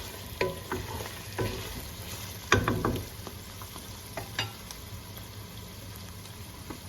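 Guar (cluster beans) sizzle and fry in a pan, a steady close crackle with scraping stir strokes and a few louder spatters, with no voices.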